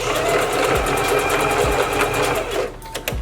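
Sewing machine reverse stitching while a wig is being made, a steady close whirring rattle running continuously before slowing and stopping near the end.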